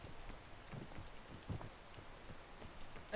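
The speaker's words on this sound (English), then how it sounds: "It's raining now." Steady rain falls in a video game, a soft even hiss with scattered drop patters throughout, faint and unbroken by talk.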